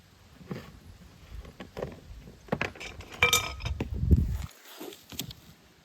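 A spoon clinks and scrapes against a kazan while mushroom soup with cheese, garlic and bay leaf is stirred, giving close, irregular metallic taps and rattles.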